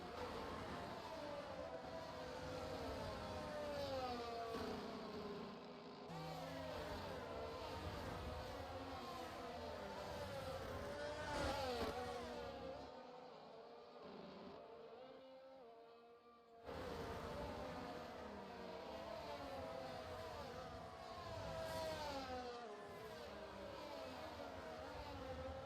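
Formula 1 race cars on the Red Bull Ring circuit in an F1 video game, engines whining and shifting pitch continuously, with a few seconds of near silence in the middle before the engine drone resumes, fairly faint overall.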